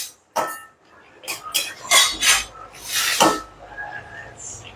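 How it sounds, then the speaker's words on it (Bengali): A spatula scrapes and knocks in a pan as fish heads with Malabar spinach, turmeric and cumin are stirred, several close scraping bursts and clatters, with a voice talking. "ভালো করে নেড়ে নিচ্ছি।"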